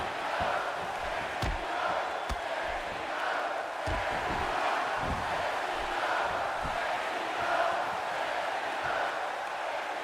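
Arena crowd noise from a WWE 2K16 wrestling match in Detroit, a steady loud roar of fans with scattered sharp impacts and thuds cutting through throughout.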